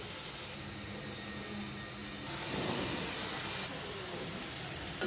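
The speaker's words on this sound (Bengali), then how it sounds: "ঠিক এই মুহূর্তেই আমরা সবজিটা অ্যাড করছি" Vegetables go into hot spiced oil in a pot, and the quiet background hiss jumps into a louder, sustained sizzle that keeps going steadily to the end.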